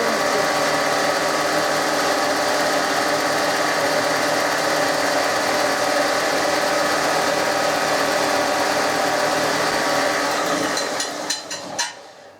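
The electric motor of a PRO CRAFT belt and disc sander hums steadily and loudly at close range, holding a constant whine for most of the clip before winding down near the end.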